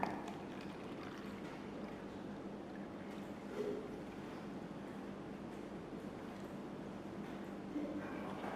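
Water pours from a bottle into a glass in a classroom lesson, a soft continuous trickling splash that runs steadily and faintly throughout, with no voices.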